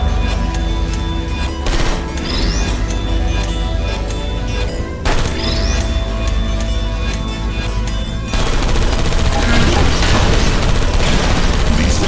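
In the Portal Stories: Mel video game, turrets fire loud rapid bursts while servers blow up with crashing booms, a dense mechanical barrage close up that ends in a rougher, noisier roar.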